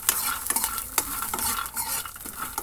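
Chana dal tempering frying in hot oil for an eggplant chutney, a steady close sizzle with a spoon stirring and scraping the pan in irregular strokes, no voices.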